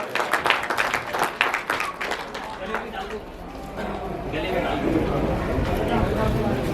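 Loud applause from a village poetry-recital audience greets a poet, a dense burst of many hands clapping near at first, then fading into a steady wash of crowd noise.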